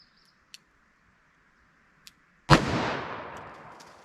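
A single .44 Magnum revolver shot firing a heavy 255-grain hard-cast bullet cracks out loud and sharp, then rings off in a long decaying tail, preceded by a couple of faint clicks.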